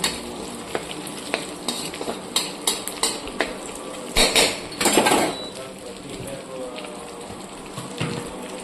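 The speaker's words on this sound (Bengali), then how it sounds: "এতে আমি ফোড়ন হিসেবে দিয়ে দিচ্ছি একটা তেজপাতা, শুকনো লঙ্কা, মৌরি, জোয়ান আর হচ্ছে গোটা জিরে।" A bay leaf, dried chilli, fennel, ajwain and whole cumin temper in hot oil for a bottle gourd and prawn curry. A steady close crackling sizzle plays under sharp utensil clinks and taps, and a voice talks over it.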